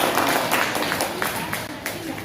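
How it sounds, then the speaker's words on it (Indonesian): Classroom applause for student groups 1 and 5 at a junior high school, steady dense clapping from many pupils with some murmur of voices mixed in. "Tepuk tangan untuk kelompok 1 dan 5."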